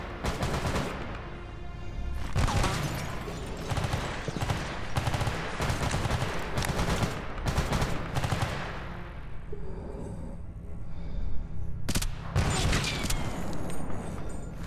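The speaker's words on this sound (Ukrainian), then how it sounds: "Наче не одна зброя стріляла." Heavy bursts of gunfire from several weapons in the video game S.T.A.L.K.E.R. Anomaly overlap in rapid, loud volleys, then pause briefly before another sharp crack and more shots.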